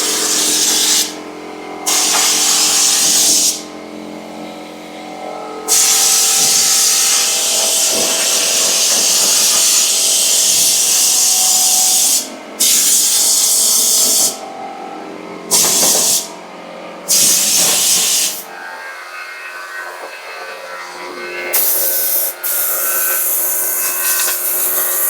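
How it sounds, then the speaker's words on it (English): Loud hissing spray bursts on and off repeatedly over the steady mechanical drone of an air compressor, with occasional rubbing and tool clatter nearby. "Sorry for the noise, but the compressor's got to run for this."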